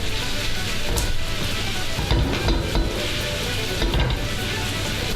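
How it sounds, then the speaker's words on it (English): Bacon sizzling in hot oil in a frying pan, a steady loud crackle running throughout with a few soft scrapes of utensils against the pan. "Keep an eye on your bacon as well."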